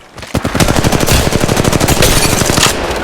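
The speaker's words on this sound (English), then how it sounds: "Opening fire." Sustained rapid automatic gunfire in the mobile battle royale game Apex Legends Mobile, loud and close, a steady stream of shots lasting almost three seconds with no pauses and no talking.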